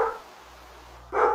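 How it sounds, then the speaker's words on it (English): A dog barks twice, once at the start and again near the end, sharp and fairly close, with a quiet indoor room between. "That would be my dog."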